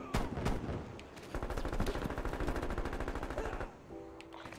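Rapid automatic gunfire in Call of Duty: Cold War Hardpoint multiplayer, likely an MP5, with dense bursts of shots, a sharp initial crack and steady fire for several seconds before a brief pause and a game chime.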